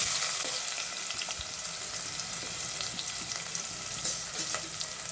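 Chopped onions frying in hot oil in a pan, a close, steady crackling sizzle with light scraping strokes of a spatula, no voices over it.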